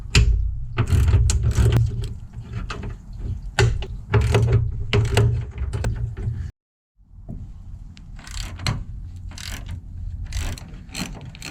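A hand ratchet spins out 10 mm inner fender bolts on an old Ford truck, loud close clicking bursts in repeated runs, a brief pause of silence, then more ratcheting.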